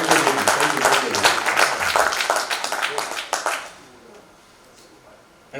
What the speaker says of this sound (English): Let's give them a round of applause for the great work that they are doing.